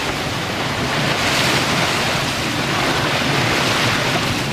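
Steady wind and washing waves aboard a sailboat at sea, a constant loud roar of breeze and water with no voices.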